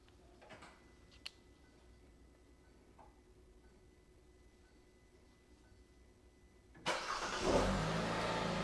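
A 2016-2020 Hyundai Tucson fired by a remote starter: near-silence with a few faint clicks, then the engine cranks and catches near the end, settling into a steady idle rumble.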